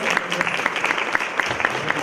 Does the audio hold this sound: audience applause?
yes